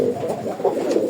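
Native pigeons on a rooftop coo in Bengal, a soft, low, rolling murmur of repeated pulses heard up close and on its own.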